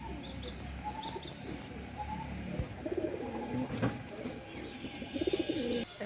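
A pigeon coos softly in repeated throaty phrases while it eats, with faint chirps and light ambient noise around it.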